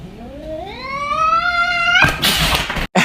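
A cat confronted with a plush toy of itself lets out a long rising yowl, loud and close, then a burst of hissing noise and rustling cuts in near the end.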